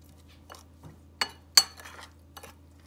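A spoon clinks against a bowl while adobo seasoning is mixed, a few sharp, close taps and scrapes at irregular intervals against a quiet background.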